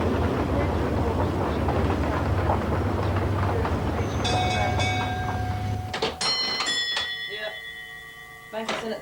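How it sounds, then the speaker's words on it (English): Transalpine Express passenger train at a New Zealand railway station platform in the 1980s, with a loud rumbling engine idle giving way to tonal chimes and clanking as the rumble drops away. "The Transalpine Express now standing in the main platform"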